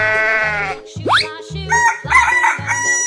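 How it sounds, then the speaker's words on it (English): A rooster crows once with a rising, stretched call, surrounded by short synthetic game sound effects and bleat-like noises. "Chicken."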